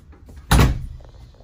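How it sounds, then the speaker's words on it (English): A walk-through door inside the living quarters of a 2022 Merhow three-horse trailer with 12-foot living quarters, closing with a single loud thump amid quiet room sound. "Walk-through door"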